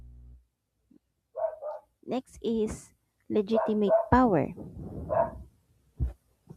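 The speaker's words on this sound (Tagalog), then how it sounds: "ang ingay talaga ng aso" A nearby dog barks and yips intermittently, mixed in with a person giving a lecture indoors. The barks are partly masked by the speech.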